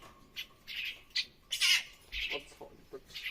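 A pet myna being trained to step onto a hand lets out a series of short, harsh squawks and chirps close by, spaced irregularly, with one louder burst in the middle.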